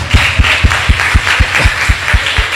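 A church audience claps in unison during a sermon, about ten evenly spaced, loud, sharp beats in a steady rhythm, close and with no talking.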